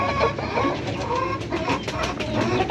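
Bangkok chickens in a farm coop cluck and chatter continuously, several birds overlapping at close range with busy, uneven calls.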